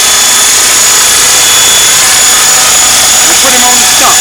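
A 500-size T-Rex RC helicopter flying, its loud, steady high-pitched rotor and motor whine running continuously throughout, with faint background voices.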